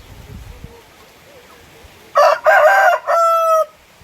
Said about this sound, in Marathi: हे आमचे कोंबडे